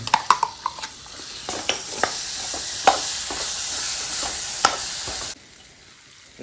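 Onion-garlic paste fries in a pan with fresh cashew kernels, a bright close sizzle with sharp clinks and stirring scrapes through most of the stretch, then it drops away abruptly near the end.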